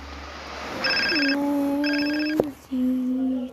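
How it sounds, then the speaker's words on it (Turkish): A telephone rings in two bursts of bright electronic trills, loud and close. Lower humming tones run beneath and between the rings. "Telefon çalıyor."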